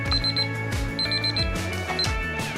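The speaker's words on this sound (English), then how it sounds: "So the timer's off." A kitchen timer rings in repeated bursts of bright, rapid beeping with short pauses between them, loud and close, while cooking meat sushi in the oven.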